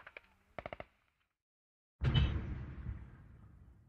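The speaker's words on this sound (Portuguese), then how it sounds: "alguém deu um tiro" A gunshot goes off in the video game Hand Simulator: one loud, sudden blast with a long rumbling tail, after a brief quiet gap that follows a short burst of clicks.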